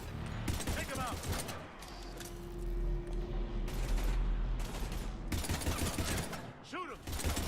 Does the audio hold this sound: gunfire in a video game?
yes